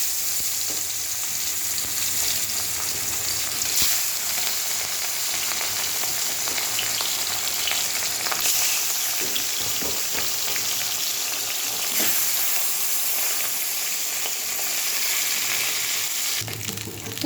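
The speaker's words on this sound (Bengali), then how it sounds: "এবার মাছটা ভেজে লাউ দিয়ে করবো" Fish fries in very hot mustard oil in a wok, giving a continuous loud sizzle with crackling spatter and occasional stirring scrapes throughout.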